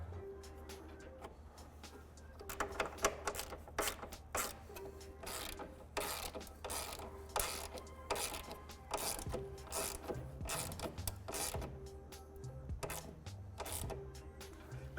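Hand ratchet tightening a 10mm nut onto a stud to fasten a grille controller on a 2014+ C7 Corvette: close, rapid bursts of clicking pawl teeth in repeated strokes, with short pauses between them and no talking.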